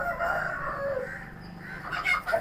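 Chickens and a rooster on a rooftop poultry farm, soft clucking and a brief crowing call, fairly quiet and close, with no talking over it.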